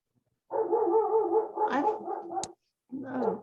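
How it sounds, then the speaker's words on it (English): Several dogs barking in a run of rapid, overlapping barks lasting about two seconds, then a short pause and another burst, fairly close and loud in a room with no talk over them. "those are not my dogs making the noise"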